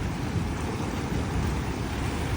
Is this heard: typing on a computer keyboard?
no